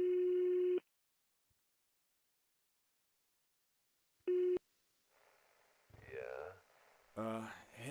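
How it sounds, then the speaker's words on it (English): Phone ringback tone during a call in the video game Greyhill Incident: two separate steady electronic tones with silence between, followed by a person talking. "Please pick up the phone."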